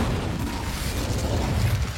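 The Incendio fire spell is cast in Hogwarts Legacy, giving a dense, rumbling whoosh of flame that holds steady and fairly loud for about two seconds with no voices.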